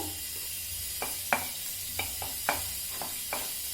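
Eight dry red chillies frying in a pan for biryani garam masala, giving a steady soft sizzle with a series of light stirring scrapes and taps spaced through it, close and alone.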